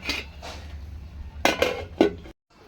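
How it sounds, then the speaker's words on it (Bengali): Metal clatter of a lid being set on a cooking pot of chicken maharani, a few sharp clinks and scrapes close up, the last knock ending abruptly. "আবার একটু ঢাকা দিয়ে দিলাম"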